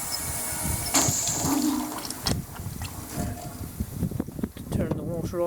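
A 6-inch Burrell Gold Medal traction engine injector rushes with steam and water, a steady loud hissing gush with clanks and shifting bursts, close by.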